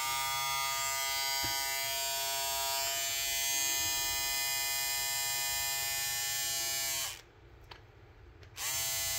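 A Braun One Tool XT3/XT5 electric trimmer buzzes steadily close up with a bright, high-pitched motor whine, then briefly cuts off near the end before starting again.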